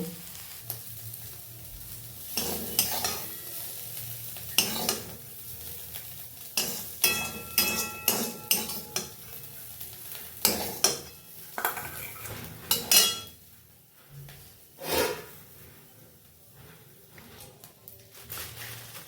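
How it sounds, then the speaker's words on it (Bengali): Cauliflower fritters for winter cauliflower chops fry in a pan while a metal utensil stirs and lifts them, with repeated clattering scrapes and clinks over a soft, continuous sizzle, close up. "ফুলকপি আমার ভাজা হয়ে গেছে এবার আমি তুলে নেব"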